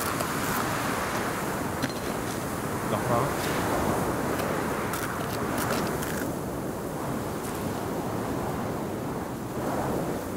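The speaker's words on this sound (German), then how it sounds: "dieser Wind." Strong wind roars steadily in the survival game Sons Of The Forest, a dense, unbroken rush of gusting air that fills the whole stretch while someone speaks briefly over it.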